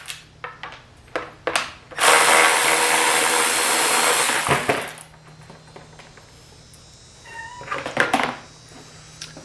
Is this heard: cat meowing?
yes